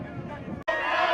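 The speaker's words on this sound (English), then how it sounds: "Troy students were among the many chanting and cheering at the Alabama Higher Education Day" A crowd of Troy students chanting and cheering at Alabama Higher Education Day in Montgomery, a brief burst of massed voices that cuts out for an instant and then swells back louder and brighter.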